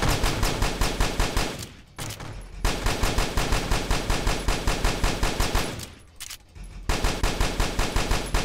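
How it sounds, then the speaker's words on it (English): Rapid bursts of shotgun fire in the CubeZ zombie video game, loud and continuous with brief gaps between volleys, the shots rattling in quick rhythmic succession with no voices. "Oh, he had a shotgun."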